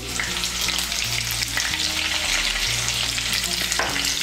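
Peeled, cut pointed gourd pieces fry in a pan with a little salt, giving a constant loud sizzle and crackle that continues unbroken throughout, with no talking over it.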